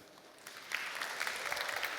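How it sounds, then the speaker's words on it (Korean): An audience at a Seoul crypto art conference applauds after a lecture, with clapping that swells from light scattered claps into a steady, moderately distant round heard on its own. "유익한 강연해 주신 안진구 비평가님께 다시 한번 큰 박수 부탁드리도록 하겠습니다"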